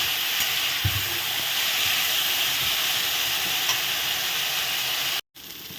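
Potatoes frying with turmeric in hot oil, giving a continuous close sizzle and hiss with small pops, broken by a brief silent gap near the end.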